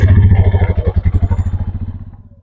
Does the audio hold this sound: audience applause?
no